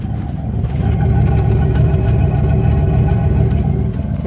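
A Dodge Ramcharger engine idles steadily after start-up, its catalytic converter and muffler cut off, giving a loud, continuous low rumble with even pulsing throughout and no talking.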